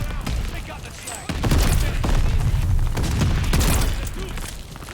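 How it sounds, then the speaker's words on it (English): Call of Duty: Vanguard gameplay erupts with rapid gunfire bursts and booming explosions, a dense continuous barrage with heavy low rumbles, loud and close, with faint speech mixed in. "So insane though, explosions on this game."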